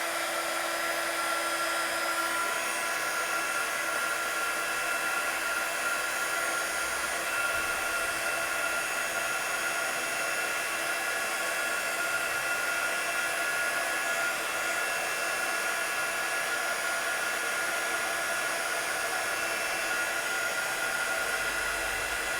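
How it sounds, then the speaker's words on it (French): A heat gun blows steadily and loudly while heating embossing powder on a handmade card, a constant rushing hiss with a high whine that runs unbroken for over twenty seconds without talk. "Et je vais prendre mon heat gun. Alors, vous n'allez plus m'entendre là avec le bruit."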